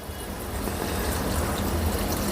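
A glass of water pours steadily into a pot of soaked sorghum, a continuous splashing fill that stays even throughout.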